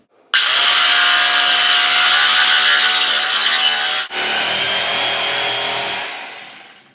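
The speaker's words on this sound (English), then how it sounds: "I'm going to go ahead and cut off about 1/2 inch of thickness on this pad." A power tool cuts about half an inch of thickness from a foam hip pad, running as a loud, steady whine that shifts pitch partway through, then continues slightly lower before fading out.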